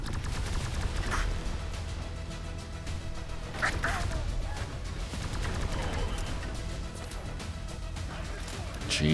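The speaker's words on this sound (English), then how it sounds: "Come on boys, pop your head up," Fallout 4 firefight: scattered gunshots and fusillades pop under a busy battle mix, some distant, some nearer, while voices talk over the action.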